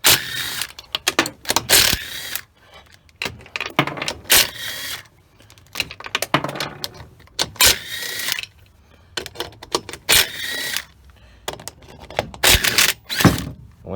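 Bolts of 13 mm are removed from the fan clutch of a 2003–2007 Dodge 5.9 diesel, giving bursts of ratcheting and clicking tool noise with short pauses between them, close and moderately loud.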